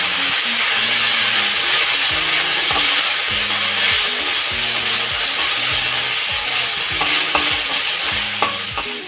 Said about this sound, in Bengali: এখন লবণ হলুদ দিয়ে একটু ভাজা ভাজা করে নিচ্ছি